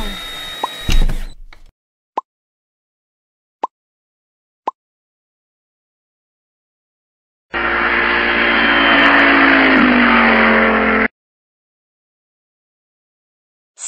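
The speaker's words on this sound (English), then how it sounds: "C, K, car." A car engine revs loudly for about three seconds, rising in pitch, before cutting off abruptly. Earlier there is a short burst of noise and then a few sharp, isolated clicks separated by silence.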